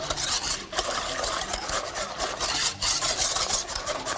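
A spoon scrapes and stirs steadily through Arabic pudding as the starch dissolves and the mixture thickens, a continuous close rasping rub with no voices.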